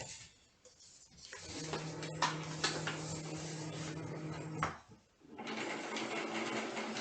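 A Cricut cutting machine loading its mat for iron-on vinyl gives off a quiet mechanical whir with a steady motor hum and clicks, pausing briefly before running again.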